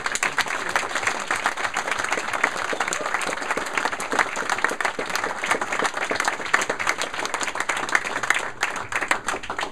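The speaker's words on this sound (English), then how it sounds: "Donal, Daniel, Tom Driscoll and Eoin, they deserve a huge round of applause" A large festival audience applauding steadily at an opening ceremony, dense and loud clapping that holds at an even level throughout without pause.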